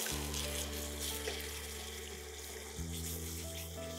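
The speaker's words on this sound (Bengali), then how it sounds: "এটার মধ্যে অল্প আর একটুখানি জল দাও" Water pours into a pan while cooking a South Indian style egg and coconut curry, a steady close liquid stream over a low humming drone, with a brief shift in tone partway through.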